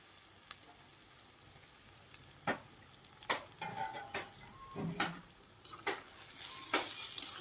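Onions, green chillies and drumstick pieces frying in a pan: a soft, steady sizzle under a series of sharp scrapes and clinks from a spoon against the pan.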